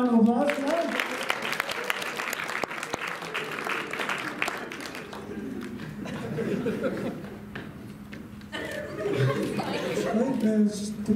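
A high school audience applauding after a dance move, a round of clapping mixed with chatter and chuckles, with a voice speaking over the crowd.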